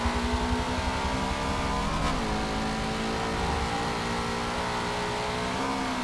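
Engine of a car in the Forza 7 racing game, with a supercharger-like tone, revs hard and steady, the pitch dipping at a gear shift before climbing again, loud and close, no voices.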